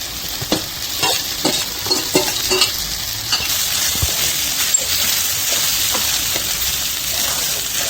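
A spoon stirs sambar masala rice with tomato in a hot pan, a steady sizzle under irregular scraping and clacking strokes, close and fairly loud, with no talk.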